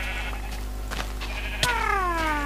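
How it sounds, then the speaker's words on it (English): A sheep in the Minecraft video game bleats once, a wavering nasal cry close by, rising out of a steady game background hum. "And still, George has an obsession with sheep."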